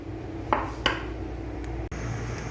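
A pan is set down on a kitchen stove. Two light metallic knocks come close together near the start, over a steady low background hum.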